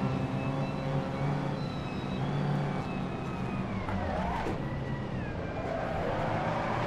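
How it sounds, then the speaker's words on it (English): Several vintage racing car engines drone and whine together on a track, overlapping tones rising and falling as cars pass close by at a steady, moderate level. "I can't even hear my engine over everybody else's."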